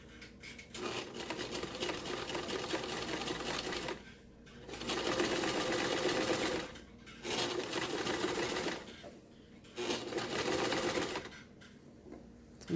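A sewing machine stitches fabric for a pleated face mask, its steady close whirring running in long bursts of a few seconds each, separated by short pauses, with quiet background.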